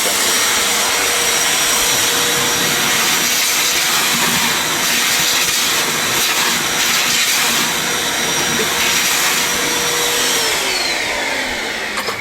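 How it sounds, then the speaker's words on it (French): A vacuum cleaner roars continuously at close range cleaning the air filter housing of an Iveco Daily 2.3 HPI, a loud steady airy whine with slight shifts in pitch as it moves. "Vous prenez un aspirateur."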